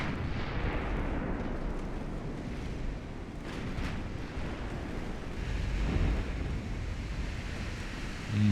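Big naval guns fire in Ultimate Admiral: Dreadnoughts, as a steady roar of dull booms rolling over constant wind- and sea-like rumble, with no voices.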